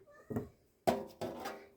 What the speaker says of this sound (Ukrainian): Це в мене кіт там під ногами вже шарудить